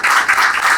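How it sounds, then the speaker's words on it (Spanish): Audience applause for a professor at a philosophy of theatre talk, a dense steady burst of many hands clapping together, loud and close, with no voices over it. "Fuerte aplauso para el profesor."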